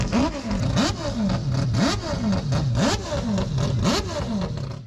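A Mazda 787B's 2.6-litre naturally aspirated quad-rotor Wankel racing engine screams through repeated rapid rev cycles, pitch sweeping up and dropping in a rhythmic pattern, loud and harsh with a high buzzing edge.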